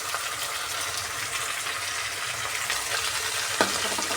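Mint and coriander leaves frying in a pan for a ginger chutney, a soft, steady sizzle and hiss with light stirring, fairly quiet and continuous, with one small clink near the end.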